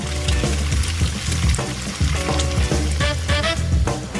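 Steady sizzling of food frying in a pan, loud and close, with occasional stirring scrapes through the crackle.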